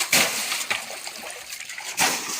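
Water gushes and splashes from a farm pump pipe beside a tractor, a steady close rushing spray with sharper bursts at the start and near the end, no talking.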